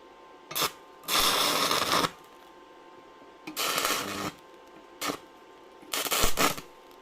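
A stick welder set to 140 amps arcs with a bolt used as the electrode, producing four separate bursts of harsh crackling buzz, each lasting about a second, with quiet gaps between them.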